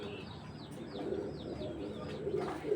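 A large female Zebra Bezi pigeon coos softly in a short series of rolling calls, quiet and close, over faint background hum.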